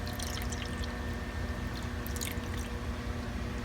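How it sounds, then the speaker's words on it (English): Muscadine grape juice pouring steadily into a container in a home kitchen, a continuous close liquid rush with some splashy texture over a faint background hum, no voices. "muscadine grape juice, and I just pour that in."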